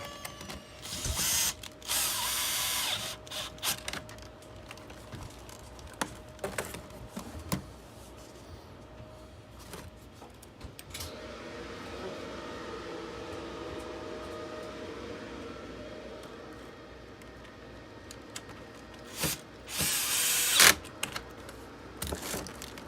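Silver screws driven back into a Tineco Floor One S3 cordless vacuum during a battery replacement, with close clicks, handling knocks and a long stretch of low whirring from a driver, plus a few sharp bursts.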